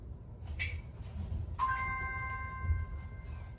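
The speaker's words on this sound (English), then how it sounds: "Waiting for that bell." A workout timer bell sounds during a core exercise session: one bright bell strike with a ringing tone that sustains and slowly fades over low background rumble, after a brief higher chime just before.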